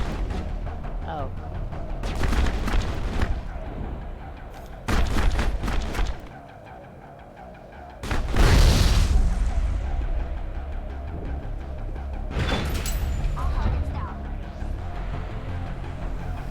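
Grenade blasts in the video game Mass Effect, several booming bursts with a big one near the middle, amid game gunfire and action noise, with a player's voice talking over it.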